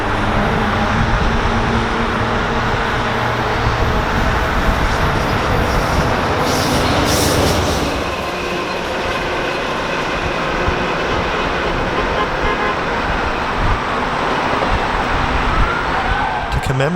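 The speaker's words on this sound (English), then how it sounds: "this inbound train from Windsor has a P42 leader, but one of VIA's flashy, silver and gold-wrapped F40s taking up the rear" A VIA Rail passenger train passes inbound from Windsor, led by a P42 locomotive with a silver-and-gold-wrapped F40 at the rear. It rumbles loudly and continuously with wheel and rail clatter and a brief high screech midway.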